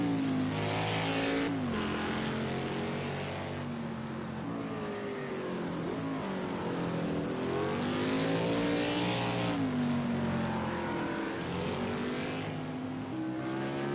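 Race cars lapping the Sonoma circuit during a Wine Country 30 race, engines roaring loud and continuous with rising and falling revs as cars pass in succession, no talk.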